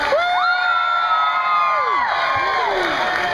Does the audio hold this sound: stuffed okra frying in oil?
no